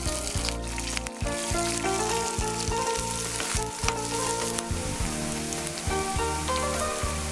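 Tempering seeds and onions hit hot oil in a pan, a loud, continuous crackling sizzle with dense popping, close and constant, with spoon strokes breaking through at intervals.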